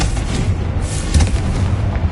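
A Confringo fire spell bursts in Hogwarts Legacy: a loud, dense booming blast that rumbles steadily for about two seconds, with a heavier thump partway through.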